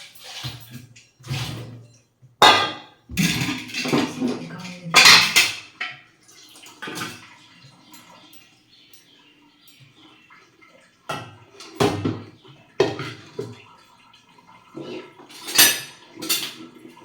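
Steel utensils, pots and dishes clatter in a home kitchen in repeated bursts of clanks and scrapes separated by quiet gaps, with faint water sounds.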